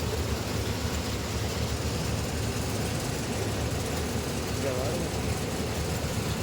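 A tractor hauling a crusher through a farm field runs with a constant heavy engine rumble, underlaid by irregular low banging and clatter from the crusher, steady and close throughout.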